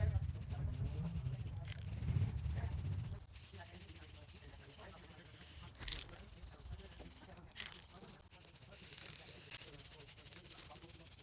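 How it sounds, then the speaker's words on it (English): Black spray paint is sprayed from a can onto a metal table in a backyard, with no prep. Hissing bursts start and stop repeatedly over a steady background, close and fairly loud. "hit it with some black spray paint with no prep"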